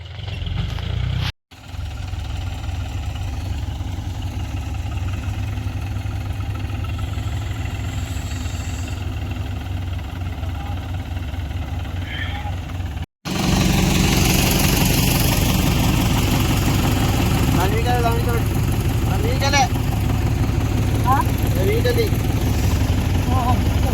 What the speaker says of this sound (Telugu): ట్రాక్టర్ తీసుకుని వస్తుండు